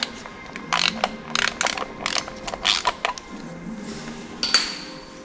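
A ratchet tightens a bolt during service work on a Porsche Carrera 2S, giving a series of close, sharp metallic clicking bursts in short irregular runs, with a few light clinks afterward.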